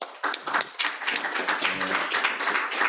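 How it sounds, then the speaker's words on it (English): An audience applauds at the close of a conversation talk on the ethics of veganism; fairly sparse, uneven hand claps ring out near the microphone, with a brief murmured voice midway. "can we give Alex a round of applause?"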